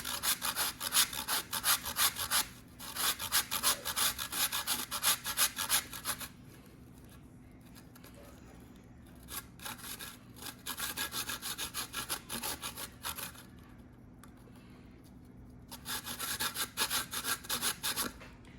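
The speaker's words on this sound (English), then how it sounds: "I can grate my ginger because it's frozen." Frozen ginger scraped on a kitchen grater, rapid rhythmic rasping strokes in three bursts with short pauses between them, close and clear with no talking.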